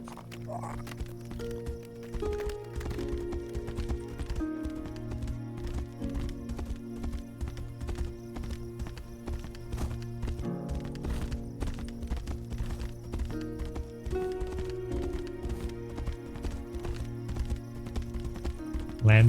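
Horse hooves clip-clop at a steady gallop in the fantasy video game Tainted Grail: The Fall of Avalon, a continuous rhythmic pounding over a dense layer of game music, with no voices.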